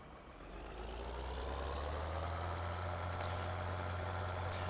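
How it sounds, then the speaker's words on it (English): A truck engine in Farming Simulator 2013 runs loud and steady, a low continuous drone that rises slightly at the start and holds, with no talking. "This truck doesn't drive the greatest now."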